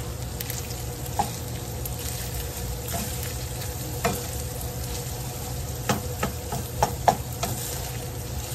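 About a tablespoon of butter melting in a pan, giving a soft continuous sizzle with scattered light pops and clicks, close and fairly quiet, no talking.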